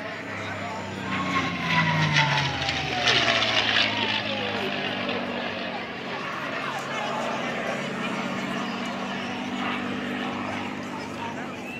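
At an outdoor SAAF Museum airshow, a World War II propeller plane roars past, its engine drone swelling loudly and then fading away, with spectators talking over it.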